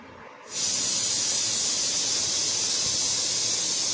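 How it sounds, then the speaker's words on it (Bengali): A pressure cooker boiling lentils on a kitchen stove suddenly bursts into a loud, steady, high hiss of escaping steam that holds without a break after a quieter start. "এই যে কুকারের মধ্যে ডাল বয়েল করছি। ডাল আমার সিটি পড়ছে প্রেসারে।"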